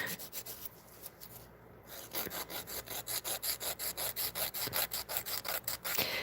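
An 80 grit file worked over acrylic nails in quick, steady back-and-forth strokes, each one a close, rasping scratch, slower at first and then settling into a fast, even rhythm.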